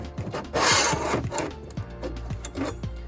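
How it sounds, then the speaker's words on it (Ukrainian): Short scraping and rubbing sounds of the plastic blade guard on a 2000 W Meister MS-681 circular saw being pulled back, with a brief rasping burst early and soft clicks after. "Відтягнули захисний кожух."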